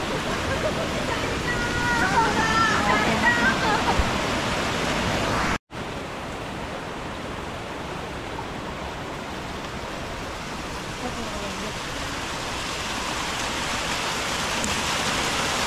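Rainwater pours down in small falls on a trekking trail at Netravati Peak, Chikkamagaluru, a steady close rushing wash that briefly cuts out, then continues evenly.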